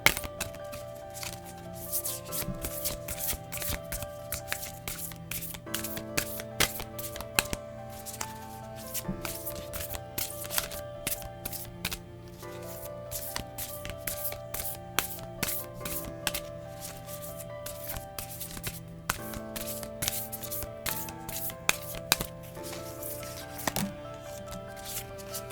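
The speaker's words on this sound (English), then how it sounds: "I'm going to shuffle" A deck of cards is shuffled over and over, bursts of quick riffling flutters and soft rubbing taps heard up close under steady background music, with no talk.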